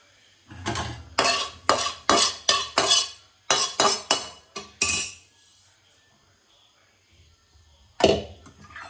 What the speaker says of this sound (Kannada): ಈಗ ರವೆ ಫ್ರೈ ಮಾಡ್ತಿರ್ತದೆ ತುಪ್ಪಡು